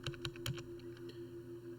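A few crisp computer keyboard keystrokes, three distinct taps in the first half second with fainter clicks after, close and quiet over steady background hum while data is entered into a spreadsheet.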